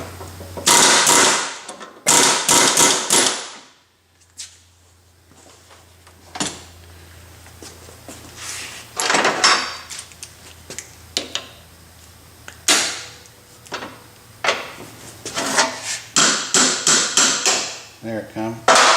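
A pneumatic air hammer pounds a part from a Fairbanks Morse 3HP Z engine in rapid rattling bursts, pausing between runs, with a low steady hum beneath.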